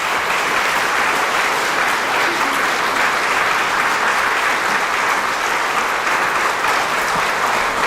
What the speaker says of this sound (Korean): 우리 박찬주 대장님 나오실 때 큰 박수로 여러분들 환영해 주시길 부탁드리겠습니다.